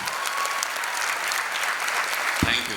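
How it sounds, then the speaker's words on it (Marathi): An audience applauds at a tribute event for the Pawankhind film, a dense, steady wash of many hands clapping at close to middle distance with no pauses. "एकदा जोरदार टाळ्या होऊन त्यांच्यासाठी"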